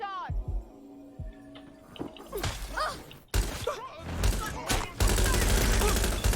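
Heavy shotgun blasts and bursts of gunfire in the video game Watch Dogs Legion, loud and repeated with crashes and thuds, building to a dense, sustained barrage near the end.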